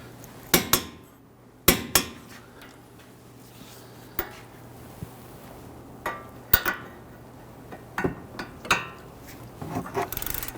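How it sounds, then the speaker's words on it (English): Torque wrench tightening the steering knuckle bolts on a Dodge Charger: a series of sharp metallic clicks and clanks, scattered irregularly with quiet gaps between, close by in a garage. "let's go ahead and torque these down"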